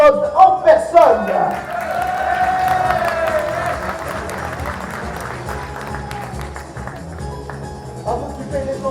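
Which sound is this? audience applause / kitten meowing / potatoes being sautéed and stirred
audience applause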